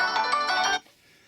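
Incoming-call ringtone on a Google Pixel 6a phone: a bright, close melodic chime repeating quickly for under a second before cutting off abruptly, with no talk.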